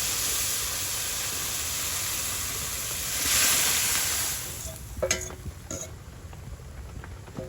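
Lentils tipped into hot tempered oil in a rustic village kitchen give a steady, close, broad sizzle throughout, swelling briefly midway, followed by a few light scraping and clinking knocks near the end.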